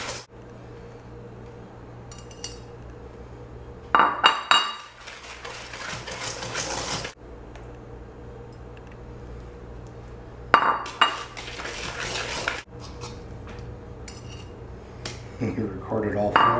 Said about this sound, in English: So you put one in at a time and mix it in.